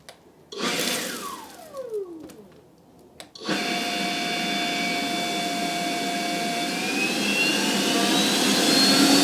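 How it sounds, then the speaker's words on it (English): Litheli U20 cordless leaf blower: a whining motor spools up with a falling tone, cuts briefly, then surges into a loud, steady airy roar that grows slightly stronger, close by, with no talking. "Let's hear what it sounds like."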